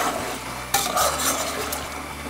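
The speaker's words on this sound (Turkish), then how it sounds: "normal bir şekilde patates kızartır gibi kızartacağız patatesleri" Quiet sizzling of potatoes frying in oil, with a utensil scraping and stirring in the pan partway through.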